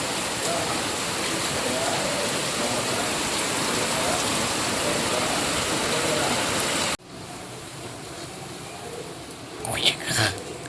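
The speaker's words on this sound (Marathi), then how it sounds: "पाऊस पण एवढा पडतोय ना धो धो खूप पडतोय पाऊस" Heavy monsoon rain pours in a steady, dense roar for several seconds in the Konkan, then cuts to a quieter background where a voice briefly speaks.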